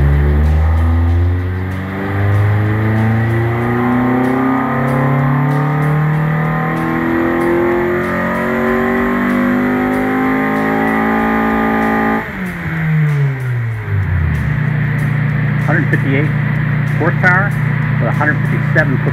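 A Honda Civic EG with a K-swap engine revs on a dyno, engine note climbing in long sweeping pulls, then dropping and settling to a lower drone, with a voice talking over parts of it.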